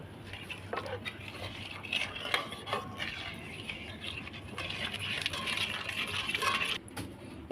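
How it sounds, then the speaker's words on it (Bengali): A spoon stirs sugar into milk in a pot while making mishti doi, giving continuous scraping and clinking at close range, with no talk. "দিয়ে আরও ভালোভাবে একটু নেড়ে নেবো"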